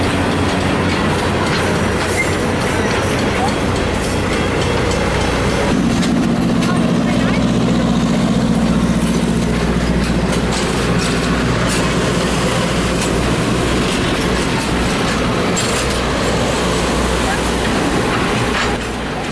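Historic passenger coaches, including the Paul Revere coach owned by a railroad historical society, roll past at a train expo in Owosso, Michigan. Loud, close clickety-clack of wheels on rail joints runs steadily throughout, with a brief squealing tone partway through.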